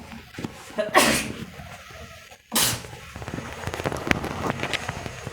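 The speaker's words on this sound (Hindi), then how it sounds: "सॉरी छींक आ गई थी।" A single sharp, loud sneeze bursts out around the one-second mark, followed by a second noisy burst, amid room noise with no talk.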